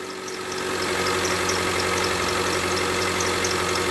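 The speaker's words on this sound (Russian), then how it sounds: "Немножко колбасит, но это из-за того, что он на газу работает." A cold Mitsubishi Lancer X running on gas idles roughly with a steady mid-pitched drone and a fast, even knocking tick riding on top, close and loud throughout with no talk.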